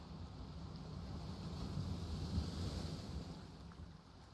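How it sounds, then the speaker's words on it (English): Steady rushing water like a waterfall in the ocean survival game Shallow Sea Roaming, a continuous broadband roar with low rumble, constant and fairly loud with no talking. "it sounds like there's a waterfall right beside me"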